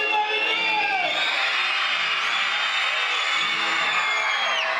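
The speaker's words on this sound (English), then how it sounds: "A packed crowd, loud music, and cheering fans, waiting for a former NFL star" Schoolchildren pack a cafeteria, cheering and shouting loudly in a continuous roar of voices.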